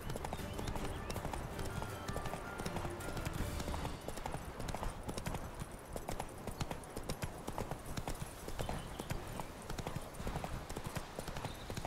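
Roach, the horse in The Witcher 3, gallops along a path, a dense, rapid run of close hoofbeats over a constant ambient bed.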